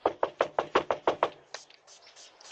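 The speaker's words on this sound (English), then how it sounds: "This guy knocks on the door" Someone knocks on a front door in Toledo, Ohio, eight quick, even raps in a steady rhythm, close and clear, followed by a brief faint hissing scuffle.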